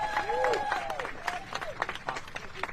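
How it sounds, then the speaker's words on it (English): A round of applause at a press conference honouring civil rights pioneer Claudette Colvin, scattered clapping heard under overlapping voices and whistle-like tones, moderately close and fairly soft. "Can y'all give one more round of applause collectively, please, to Claudette Colvin for her courage?"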